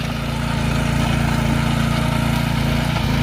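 A Honda power tiller fitted with a back rotary attachment runs at a loud, steady engine drone close by, a continuous low rumble with no speech over it.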